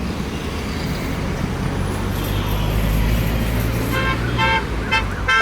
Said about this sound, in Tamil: ஒரு லாரியும் ஒரு காரையும் அவன் ஓவர்டேக் பண்ணி போயிட்டு இருக்கான்